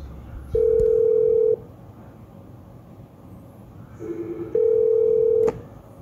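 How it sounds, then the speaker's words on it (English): A telephone on a live PoE cable line rings back with two long, steady electronic tones about a second each, separated by a quiet gap, loud and close over faint background hum. "There, it's ringing."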